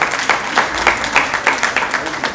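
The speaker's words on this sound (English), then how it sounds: "Please, a huge round of applause." Loud audience applause at a healthcare conference as speakers are honoured, with rhythmic, closely spaced claps pulsing steadily from start to end.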